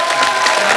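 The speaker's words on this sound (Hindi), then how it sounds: "जोरदार तालियां" A studio audience on The Kapil Sharma Show breaks into loud, dense applause with some cheering, a brief, full wash of clapping heard close.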